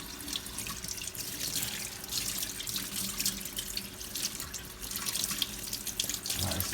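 Tap water runs steadily into a kitchen sink while the inside of a gutted fish is rinsed, a continuous close splashing with small irregular surges and no talk.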